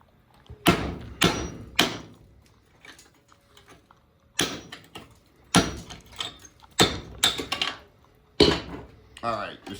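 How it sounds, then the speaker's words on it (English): Sharp metallic strikes ring out in uneven bursts, some in quick pairs, with brief pauses between them and a faint ringing afterward. "Bigger hammer."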